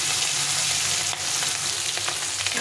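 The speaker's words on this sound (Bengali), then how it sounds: "মাছটাকে কড়া করে একটু ভেজে নিতে হবে" Fish sizzles steadily in hot oil in a pan, fried crisp for a recipe built from vegetable scraps and fish bones. The frying hiss is close and continuous with a few soft crackles and stirring clicks, and no one speaks.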